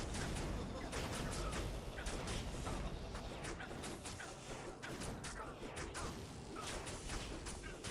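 Meteor spells from Diablo 2 Reimagined crash down in a dense, crackling barrage of repeated impacts and bursts, busy and sustained, with someone talking over the clamour.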